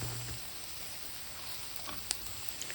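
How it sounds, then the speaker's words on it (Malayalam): Crushed garlic and ginger fry in oil in a pan for a Kerala-style spinach chicken curry, giving a steady, soft sizzle with a few light clicks as the mixture is stirred. No voices. "1 ടീസ്പൂണ് വെളുത്തുള്ളി ചതച്ചതും 1 ടീസ്പൂണ് ഇഞ്ചി ചതച്ചതും ഇട്ട് കൊടുത്തിട്ട് ഇതിൻ്റെ പച്ചമണം മാറുന്ന വരെ ഒന്ന് ഇളക്കി കൊടുക്കാം"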